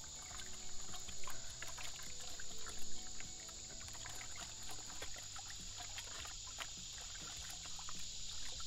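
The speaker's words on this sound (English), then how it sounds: "Let's go ahead and wash the sluice out here." Water pours and trickles steadily through a Dream Mat Adventure Sluice as a gold prospector washes it out outdoors, a continuous splashing wash with a constant high hiss and no talk.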